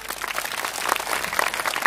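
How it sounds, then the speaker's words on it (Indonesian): An audience at an Islamic sholawat gathering in Tulungagung claps together in a fairly soft, continuous patter of applause, heard from a slight distance. "Tepuk tangan dengan semua ini."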